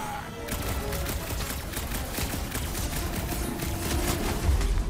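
Dense, continuous game gunfire as enemies are shot in Guardians of the Galaxy, a steady rattle of rapid shots and impacts layered over a busy battle mix with no talk.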